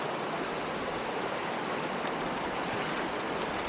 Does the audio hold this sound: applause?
no